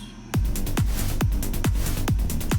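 The drop of an uplifting trance track has a steady four-on-the-floor kick pounding about twice a second under a dense, bright wall of synths. It sounds loud and continuous, with no voices.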